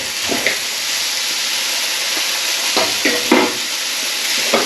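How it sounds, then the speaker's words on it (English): Around 200 grams of udon noodles are stirred in a sizzling pan for a spicy chicken dish. A loud, steady frying hiss runs under soft scrapes and tosses from the stirring, heard close with no speech. "in the pan with the under 200 grams of noodles"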